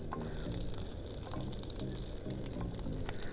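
Shallots, garlic, green chili, curry leaves and vadagam sautéing in oil for a fish head curry, with a steady close sizzle and crackle throughout, under faint background murmur.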